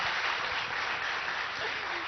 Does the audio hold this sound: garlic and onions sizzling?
no